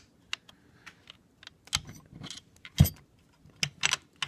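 An M1 Garand rifle bolt is drawn back, lifted and slid forward out of the receiver during a field strip, giving a series of sharp metallic clicks and scrapes, close and fairly quiet, with one louder clack near the middle.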